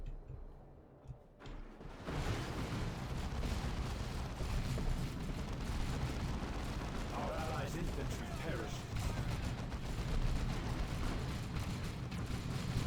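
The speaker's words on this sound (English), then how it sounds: "Heavy Bolter squads just firing at each other as they do." Heavy Bolter squads trading fire in a Dawn of War 2 battle, a sustained dense rattle of rapid shots and impacts, steady and loud after a brief quieter start.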